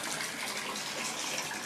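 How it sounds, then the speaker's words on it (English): A household shower runs with a continuous, even rush of falling water, fairly soft and steady from start to finish, with no voices. "Anytime there's a shower, Pushy just has to, he has to get in there."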